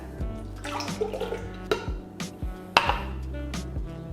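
Almond milk is poured into a blender jar for a green spinach smoothie, giving a close, gurgling liquid pour with a few light knocks against the container and no talking.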